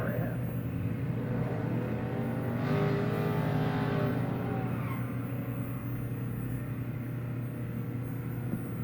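Drag race at Wednesday Night Drags pitting a 2016 Jeep Trailhawk against a 1968 Camaro RS: a steady engine drone with a brief rising rev swell in the middle, heard under continuous announcer commentary.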